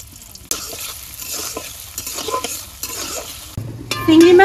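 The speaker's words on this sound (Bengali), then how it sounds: "চিংড়ি মাছ আর পেঁয়াজ টাইলে নিয়েছি" Shrimp and chopped onion frying in hot oil, a steady close sizzle with stirring scrapes throughout, growing louder and brighter near the end, with no voices.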